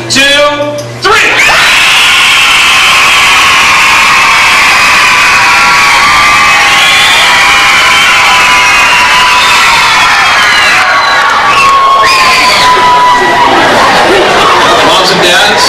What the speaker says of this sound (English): they're going to start screaming at three